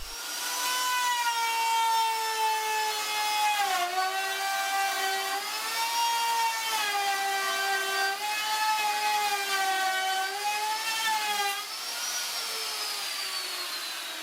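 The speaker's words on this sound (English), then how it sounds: "I am going to route a groove, keeping the curved side of the base against the fence, while turning the router base very exaggeratedly." A plunge router cuts a groove in wood, guided along a fence while its base is turned. Its motor whines steadily and loudly throughout, the pitch dipping and recovering as the cut loads it.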